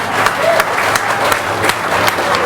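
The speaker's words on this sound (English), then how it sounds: "I'd also like a round of applause for our two candidates." An audience at an electorate debate applauds the two candidates with dense, steady clapping that fills the room, close and fairly loud throughout.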